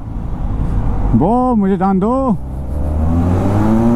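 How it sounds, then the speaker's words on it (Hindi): Royal Enfield Classic motorcycle on its stock exhaust revs hard with a rising, wavering engine note, heard close and loud inside a tunnel, while a rider speaks briefly over it. "स्टॉक एग्जॉस्ट के अंदर इसकी ऐसी साउंड है"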